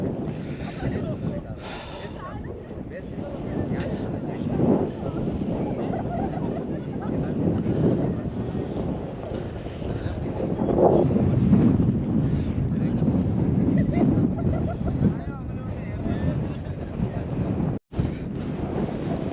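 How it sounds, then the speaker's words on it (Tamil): Fierce hillside wind near a cliff in Vagamon, Kerala, blows steadily and loudly with rising gusts, buffeting the microphone throughout as someone speaks over the roar. "செம்ம காத்து."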